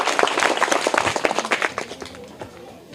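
Students clapping in a classroom to reward a correct quiz answer: a burst of close, dense hand claps that thins out and fades over about three seconds.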